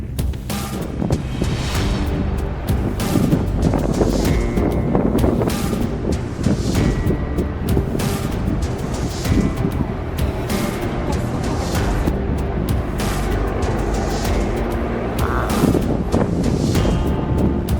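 Strong storm winds at sea off the French coast, reaching around 100 km/h, sound as heavy roaring gusts buffeting the microphone, mixed with rumbling surf, loud and continuous.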